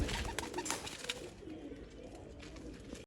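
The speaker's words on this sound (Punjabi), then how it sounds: "ਆਹ ਆਪਣਾ ਲਾਸਟ ਪੱਠਾ ਬਾਬੇ ਧੰਨੇ ਵਾਲੇ ਕੂਤਰਾਂ ਦੇ ਵਿੱਚੋਂ ਜੀ ਚੈੱਕ ਕਰ ਲਓ" Pigeons coo softly in a loft, a few low murmuring calls over faint background rustle, brief and close, with no voices.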